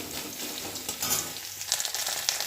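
Panch phoron, dried red chilli, a bay leaf and garlic frying in hot oil give a steady, close crackling sizzle with small pops throughout, no voices over it.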